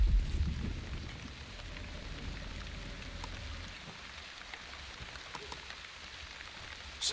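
Steady rain patters on surfaces in The Wandering Village video game, forming a continuous soft hiss with scattered drop ticks and a low rumble at the start, and no voices.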